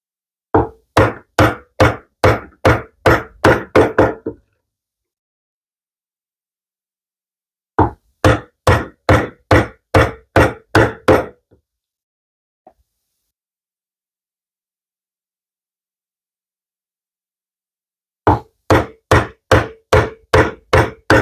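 Mallet blows drive a chisel into wood while chopping a mortise for a hand-tool TV unit, in three quick bursts of about ten sharp, loud knocks each, separated by quiet pauses with a lone tap between.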